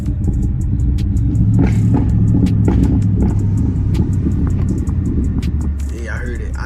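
A Dodge SRT Charger's engine rumbles steadily throughout, a deep continuous low drone with slight revving swells, heard close up as if from inside the car while driving early in the morning.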